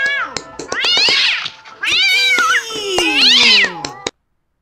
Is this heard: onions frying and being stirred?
no